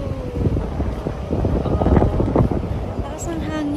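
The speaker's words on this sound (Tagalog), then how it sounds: "Lakas ng hangin." Strong wind buffets the microphone outdoors at The Peak in Hong Kong in a steady low rumble, with faint voices and scattered background noise.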